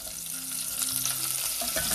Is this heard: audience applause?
no